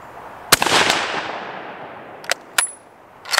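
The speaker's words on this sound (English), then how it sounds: "Two more shots to hit that head." Several rifle shots from a 30-40 Krag Model 1896: one loud crack with a long rolling echo, then sharper reports that may include a ringing strike on a metal target, all outdoors with no talking.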